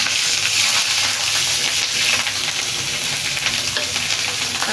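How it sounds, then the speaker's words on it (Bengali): Green chillies crackle in hot oil in a pan for a fish-head vegetable curry, a dense, continuous sizzle heard up close and alone throughout. "এই যে কাঁচামরিচগুলা আমি তেলের মধ্যে দিয়ে দিব"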